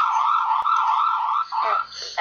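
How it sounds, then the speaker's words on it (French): A loud emergency vehicle siren from a roleplay video game mod wails as one steady, close, high tone, then breaks into shorter warbling bursts near the end. "Et bien sûr la sirène."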